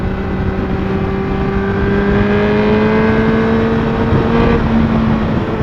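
A sport bike engine revs hard and close, a loud, steady droning whine that climbs slowly in pitch and then eases off, with no voices.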